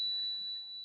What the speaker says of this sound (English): as you hear the sound of the bell